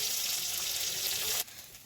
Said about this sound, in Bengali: এবার এই আলুগুলো আমি ভেঙে তেলের উপরে দিয়ে দেবো